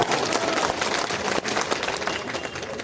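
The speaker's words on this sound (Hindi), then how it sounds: "उसके लिए एक बार जोरदार तालियां" A large crowd at a political party convocation in a public park applauds loudly, dense overlapping clapping filling the space continuously without any voices standing out.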